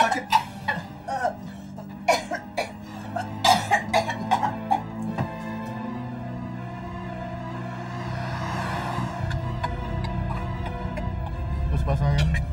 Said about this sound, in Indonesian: Kamu tuh batuk darah kok nggak bilang-bilang.